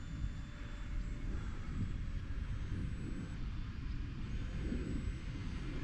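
A micro electric ducted fan model jet flying outdoors gives a steady, faint whooshing whine with a thin high tone, blended into wind rumble, and no voices.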